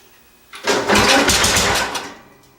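A small tractor's engine fires up after a short cranking sound and roars loudly for about a second and a half, with a coarse, raspy exhaust, then settles back down. No one talks.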